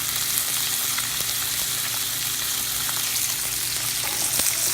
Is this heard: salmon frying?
yes